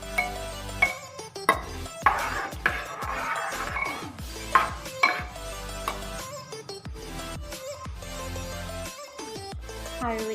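A spoon clinks and scrapes against a pan while garam masala is stirred into jackfruit curry, with a string of sharp metallic taps over a steady background and music underneath.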